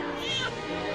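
A single drawn-out cat meow, close and fairly quiet, lasting about a second with no other sounds around it.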